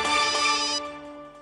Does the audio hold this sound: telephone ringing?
yes